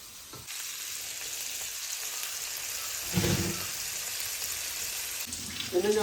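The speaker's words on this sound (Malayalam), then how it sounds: "നാടൻ മുയ്യിനെ വറുത്തടിക്കാട്ടോ" Rabbit meat fries in hot oil in a pan, a steady sizzle and crackle throughout with a brief louder burst midway and a short spoken exclamation at the end.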